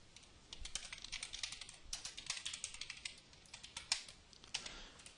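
Rapid, irregular keystrokes of C# code being typed on a computer keyboard, soft and close, with a few slightly harder taps and no speech.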